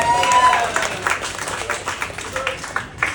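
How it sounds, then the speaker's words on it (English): A comedy club audience clapping and cheering at a stand-up show, a dense wash of applause with a few voices calling out over it. "you can clap for Lulu"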